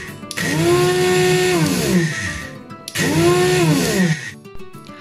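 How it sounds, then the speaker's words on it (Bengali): An electric grinder whirs through raw spice paste for Puran Dhaka style beef tehari, two loud, close bursts of high motor whine that dip in pitch as the load shifts, separated by a short pause. "আমি এটা গ্রাইন্ডারে গ্রাইন্ড করে নিচ্ছি"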